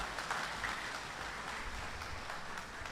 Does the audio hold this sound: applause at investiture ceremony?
yes